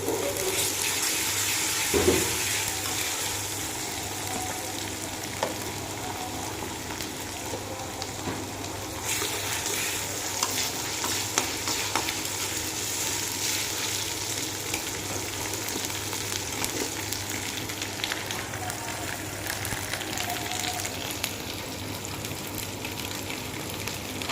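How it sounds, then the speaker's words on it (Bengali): Ginger garlic paste frying in oil in a pan gives a long, steady, close sizzle with occasional stirring scrapes and small knocks, running alone without speech. "আদা রসুনটা একটু ভেজে নিয়ে"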